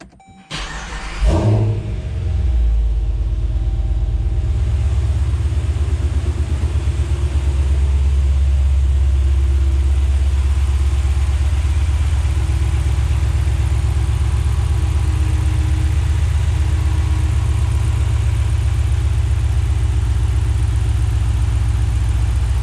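A Ford 6.4 diesel truck fitted with an AFE intake cranks briefly and fires up, then settles into a loud, close, steady deep rumbling idle that holds for about twenty seconds with no talking.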